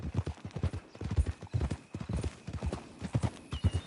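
Steady clip-clop of horse hooves at a walking pace in Red Dead Redemption 2, close and rhythmic, with light background ambience.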